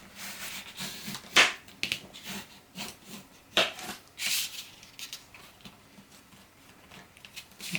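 Paper being folded and creased by hand while making a mini album, close, soft rustles and sharp crinkly snaps in irregular bursts.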